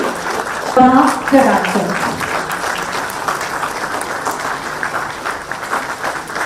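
Sustained crowd applause welcomes the chief minister at a Jharkhand government event, a continuous wash of clapping with a brief voice calling out early on.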